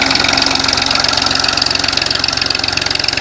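A Massey Ferguson MF 1035 DI diesel tractor idles close by with a steady, rapid knocking pulse and a loud, even chug throughout, with no voices.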